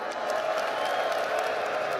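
A large crowd at a DreamHack Call of Duty Black Ops 6 LAN esports event cheers and applauds in a steady, dense roar of clapping and shouting that holds throughout.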